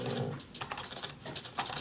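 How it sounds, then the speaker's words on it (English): Dogs barking and yelping in a Minecraft-style survival game, a busy run of repeated sharp barks close by, fairly loud and continuous through the stretch, with no talking over them. "Honestly, dogs, can't you just shut up?"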